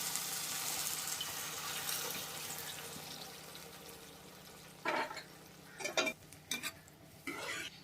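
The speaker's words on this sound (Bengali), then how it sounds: "এবার দিয়ে দিচ্ছি পরিমাণ মতন জল।" Water is poured into a tomato and swamp barb fish curry simmering in a pan, starting as a soft hissing wash and then breaking into short splashing and stirring bursts near the end.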